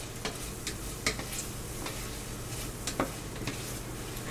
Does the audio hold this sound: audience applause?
no